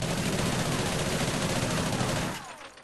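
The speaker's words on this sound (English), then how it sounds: "we're going to go ahead, hip fire, and then aim down sights" A Vector submachine gun in Call of Duty: Ghosts fires one long, loud, rapid automatic burst lasting over two seconds, then cuts off and fades quickly.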